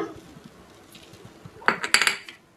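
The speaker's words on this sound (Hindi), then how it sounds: "एक इस तरह का बाउल लेंगे और इसके अंदर हम ये कटी हुई भिंडी डालेंगे।" Cut okra tips into a bowl with a cluster of clinks and clatters of dish and metal contact near the end, preceded by faint low taps in a quiet kitchen.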